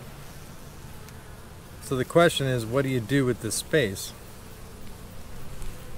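Honey bees hum around an open, nearly full hive during a late-summer inspection, a low steady drone running throughout beneath a person's speech in the middle of the clip.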